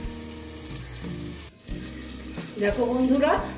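Koi fish fry slowly in a covered pan, a steady low sizzle under a continuous hiss, briefly dipping then swelling louder toward the end as a person speaks over it.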